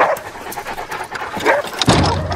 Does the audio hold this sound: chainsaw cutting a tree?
no